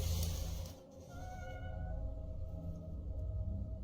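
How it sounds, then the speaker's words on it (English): A cat-like meowing cry drifts in from the front door of a house at night, wavering tones over a low rumbling background, with no talking. "the family is awoken by what sounds like a cat coming from the front door"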